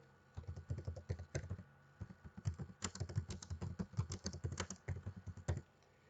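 Close, steady typing on a computer keyboard while entering text in a word processor, a brisk run of light clicking keystrokes heard alone with short pauses.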